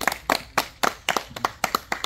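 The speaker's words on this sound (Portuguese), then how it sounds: "eu queria pedir uma salva de palmas para Andréa" A small group claps a round of applause for Andréa at a house-surprise event, with about eight distinct, evenly spaced claps close by and no talk.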